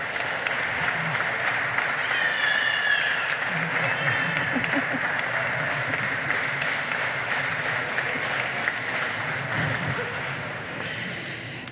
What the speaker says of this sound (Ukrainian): Ваші овації.